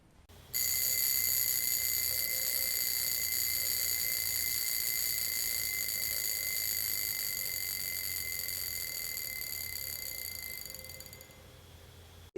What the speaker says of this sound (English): So I've once recorded how the sound of the alarm is.